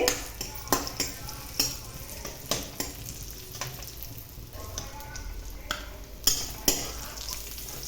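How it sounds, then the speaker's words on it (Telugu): Raisins frying in hot ghee in a pan for carrot halwa, a steady sizzle broken by repeated sharp clinks and scrapes of stirring, with no talking. "ఇప్పుడు నెయ్యి వేడైపోయింది. దీనిలోనే కిస్మిస్ వేసుకోవాలి."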